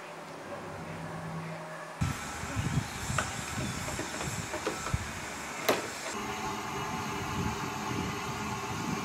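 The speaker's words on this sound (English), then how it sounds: "The first train will start from the low-level platform." Steam train hissing at the low-level platform of the Dean Forest Railway, a steady broadband hiss that starts abruptly and continues with scattered clanks and knocks, fairly close and loud with no talk.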